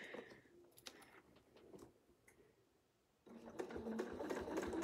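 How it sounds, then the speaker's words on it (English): A sewing machine stitches along a quilting ruler toward a crosshair line, running in short bursts with a quieter pause midway before a louder, steady stretch of stitching resumes near and close. "now we're gonna sew right up to this crosshair line"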